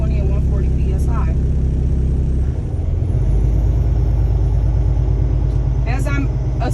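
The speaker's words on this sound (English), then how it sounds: "As I'm assisting, I'm going to step on the accelerator and I will not rev over 15 RPMs" A truck engine revved to rebuild air pressure during an in-cab inspection, a loud, close, steady low rumble that deepens and rises partway through, with a voice speaking over it.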